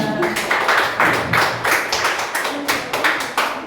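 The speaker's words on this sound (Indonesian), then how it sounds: "Tepuk tangan." An audience at a digital entrepreneurship talk show in Bandung breaks into loud, close applause, a dense run of rhythmic hand claps lasting a few seconds.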